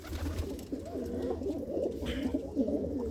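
Pigeons coo softly and continuously nearby, their low throaty calls overlapping against a faint background hum.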